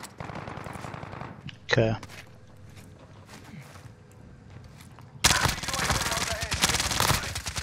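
Gunfire in Call of Duty: Warzone on Rebirth Island, Resurgence trios mode: one sharp shot, then a loud sustained burst of automatic fire near the end, with players talking over it.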